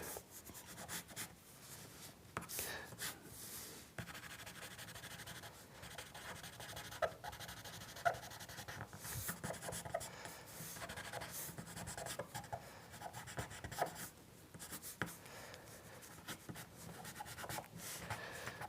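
A blunt pencil sketches on paper in close, scratchy strokes that rub back and forth in irregular bursts with short pauses, steady and unaccompanied by speech.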